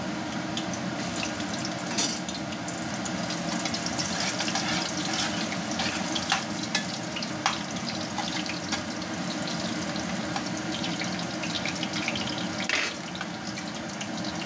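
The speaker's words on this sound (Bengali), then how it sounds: "তেল খুব ভালোভাবে গরম হয়ে গেছে, তার মধ্যে আমি এই কাঁচা কলার চিপসগুলোকে দিয়ে দেবো।" Raw banana chips frying in hot oil, a dense, steady crackling sizzle that carries on evenly throughout with scattered small pops, close and moderately loud.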